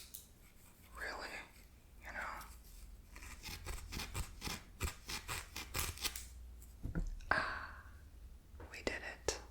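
Sharp scissor snips cut through a cord in a quiet ASMR setting, several crisp clustered cuts with scraping strokes between them, and soft whispering runs underneath throughout.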